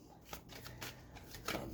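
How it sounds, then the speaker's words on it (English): Tarot cards being shuffled by hand, a soft continuous riffling and rustling with a few brighter flicks, close and fairly quiet, no talking over it. "And while I'm shuffling"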